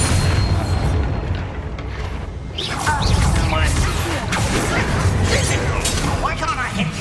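Bombarda spell blast in the video game Hogwarts Legacy: a loud booming burst lands at about three seconds over continuous game din, with a whooshing, crackling tail and game voices heard throughout.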